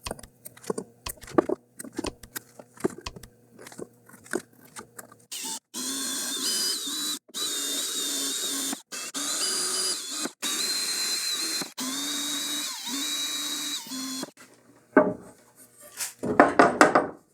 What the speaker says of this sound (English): So I'm going to drill those holes out.